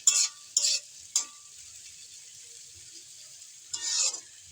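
Potato bhaji stirred and frying in a pan, a few short bursts of sizzling and spatula scraping separated by quiet pauses, close and clear.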